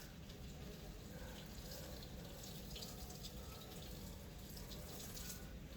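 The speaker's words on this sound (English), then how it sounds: "When we rinse, we're going to rinse from fingertips to elbows." Steady running water from a sink tap rinses hands and arms from fingertips to elbows during a surgical scrub, a constant moderately quiet hiss with no breaks.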